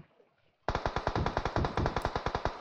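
Rapid automatic gunfire in the mobile shooter PUBG Mobile, a loud close burst of about twenty evenly spaced shots that starts abruptly after a quiet moment and runs steadily to the end.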